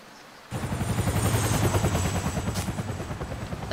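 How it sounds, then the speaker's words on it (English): In the video game Finding Bigfoot, a helicopter thunders in suddenly with fast, steady rotor chopping that stays loud and near, with no speech. "Chopper!"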